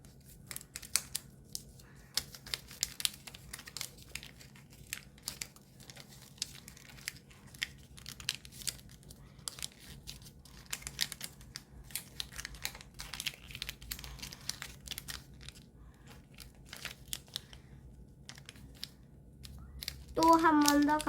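Paper being folded and creased by hand for an origami ninja spinning top, a steady stream of soft close crinkles, rustles and brushing taps that ends in a louder crumpling flourish.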